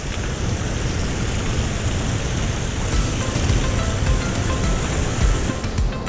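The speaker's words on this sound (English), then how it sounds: "We've got water flowing over the steps, just like we did on the mist trail" Water rushing and splashing over hand-carved, hand-laid granite steps on a Yosemite trail, a close, loud, steady noisy wash with occasional spattering surges, no talking.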